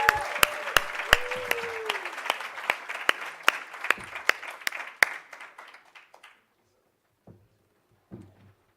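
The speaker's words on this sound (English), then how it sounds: "Can we just clap the hands so that we can give him courage to go and get a token?" An audience at a university hackathon event claps in applause, with sharp, loud individual claps standing out over a dense patter that fades after about six seconds, leaving a few scattered late claps.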